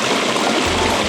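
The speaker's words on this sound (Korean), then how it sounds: "이 더운 날씨에 이 물소리 들으면서" Broadband rushing water from a stream at Sagimakgol park in Seongnam on a hot summer afternoon, a steady, fairly loud wash that runs unbroken with no talk over it.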